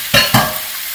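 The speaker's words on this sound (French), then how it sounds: "on fait chauffer le restant de l'huile d'olive. Puis on va faire dorer" Meat for goulash browns in hot olive oil, two sharp, loud bursts of sizzle and scraping as pieces are stirred, then a softer steady frying hiss.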